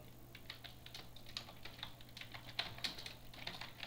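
Keys are tapped on a computer keyboard in a quiet room while text is written in Microsoft Word 2013, a faint, irregular run of light clicks and taps.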